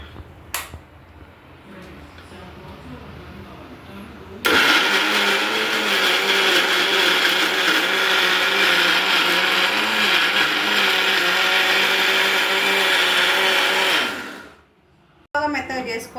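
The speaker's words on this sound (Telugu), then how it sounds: "దాంట్లోనే తగినంత ఉప్పు, దీన్ని మిక్సీ పట్టేద్దాం." A kitchen mixer grinder whirs as it grinds mint and tomato chutney, a loud steady motor roar of about ten seconds that starts abruptly, briefly stops, then restarts, with quieter speech before it.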